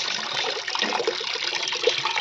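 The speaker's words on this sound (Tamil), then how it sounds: "ஸோ இதுக்கு வந்து தண்ணி வந்து பைப்பில் வந்து பிடிச்சி போயிட்டுருக்கு." Water runs from a pipe into a container for mixing a plant solution, a close, steady gushing splash with a continuous bubbling texture throughout, no talking.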